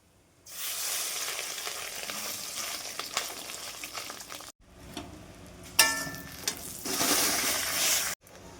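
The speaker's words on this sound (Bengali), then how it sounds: "হলুদ লবণ মাখিয়ে নেওয়া মাছের ডিমগুলো ভেজে নেব" Fish roe coated in turmeric and salt hisses and spatters in hot oil, a loud, close sizzle that swells after a short quiet start, with brief stirring clinks and a momentary break.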